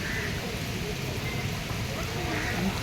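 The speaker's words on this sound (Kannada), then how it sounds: "ನೀರು ಮಳೆ" Rain falls steadily during a rainy outing in Karwar, a continuous close wash of patter with a few bleat-like animal calls mixed in and no clear talk.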